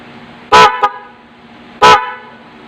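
Two loud, sharp vehicle horn blasts wired through an interrupter relay, close up, the first followed by a brief extra toot, with quiet pauses between.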